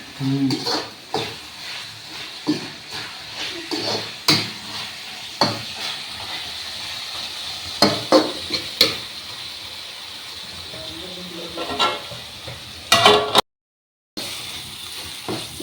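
Chicken frying in a pan at home, stirred now and then: a steady sizzle runs throughout, broken by scraping spoon strokes at irregular intervals and a brief silent gap near the end, with no talking.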